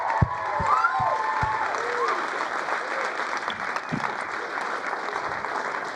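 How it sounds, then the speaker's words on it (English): A crowd applauds steadily, a dense wash of clapping with a few louder claps up close near the start, holding through to the end. "Let's keep that applause going a little longer"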